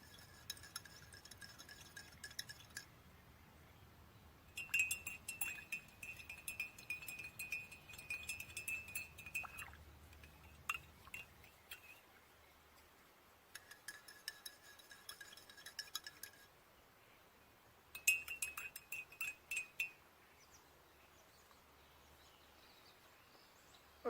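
A small spoon clinks against the inside of a cup while stirring dandelion coffee, giving bursts of bright metallic tinkling separated by quiet pauses, close and fairly soft.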